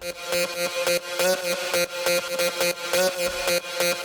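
A bright synth lead layer in a techno track repeats a short, choppy pattern of staccato notes in a steady rhythm, loud and alone, somewhat alarm-like in tone.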